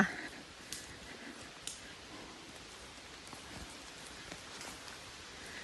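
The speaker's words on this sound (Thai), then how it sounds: "แต่ฝนตกนี่เราไม่เปียกฝนแล้วแล้วเราอยู่ในป่า" Rain falls through forest canopy during a September mushroom-foraging walk, a faint, steady hiss scattered with occasional louder drips and patters landing nearby.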